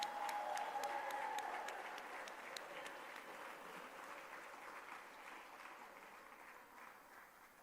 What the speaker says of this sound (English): give us another loud and astounding round of applause